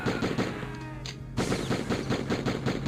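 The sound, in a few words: gunfire emptying a magazine in Die Hard video game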